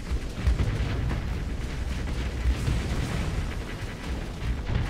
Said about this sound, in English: Now war cannon comes in.